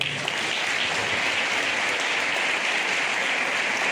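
Applause fills a hall at a sports awards gala in Jarandilla de la Vera, a sustained, even roar of clapping from a large crowd, somewhat distant and unbroken, with no voices heard.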